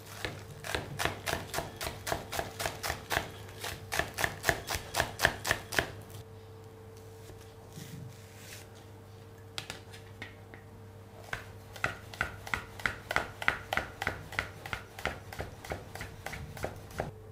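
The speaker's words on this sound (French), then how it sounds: "enlevez la racine de l'oignon nouveau et les mincez en fines lamelles" A knife slicing spring onion into thin strips on a board, fast, even runs of crisp tapping cuts, pausing briefly in the middle before a second quick run.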